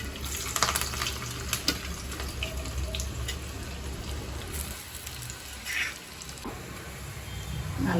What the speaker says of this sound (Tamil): பொரிஞ்சிடுச்சு. ஒரு வெங்காயத்தை போட்டேன்.